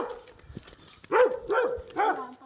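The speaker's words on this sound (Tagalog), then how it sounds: "Kasi tumatahol siya." Dog barks three times in a row, loud and fairly close, with a quieter stretch of low background noise before the first bark.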